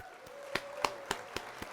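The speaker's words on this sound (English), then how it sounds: "So we were going to hit applause." Sparse, thin claps from an applause sound effect triggered during a live stream, five or six soft hand-clap hits spaced irregularly over a faint tonal hum, quiet and unaccompanied by talk.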